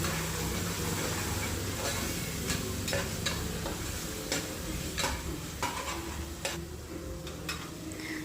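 Onion and ground masala paste fry in hot oil for an egg biryani, a steady close sizzle with scattered sharp ticks and scrapes of stirring throughout.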